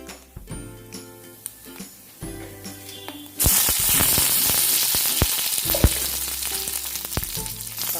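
A pinch of mustard seeds drops into hot oil for a jackfruit and lentil thoran and erupts into loud crackling sizzle and popping that runs on steadily after quieter kitchen clatter.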